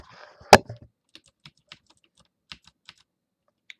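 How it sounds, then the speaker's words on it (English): A computer keyboard in a PC building simulator game gives one sharp loud clack followed by a sparse run of quieter, separate key taps spaced out over a few seconds, otherwise near silence. "yeah, keyboard sounds."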